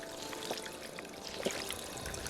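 Water pouring in a survival video game, a steady stream with a few faint splashing bursts, alone and fairly quiet.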